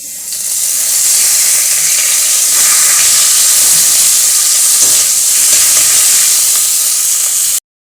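Chopped tomato added to garlic frying in oil in a home kitchen for a fish-oil curry, giving a loud, steady hiss and sizzle that holds evenly for several seconds before cutting off abruptly.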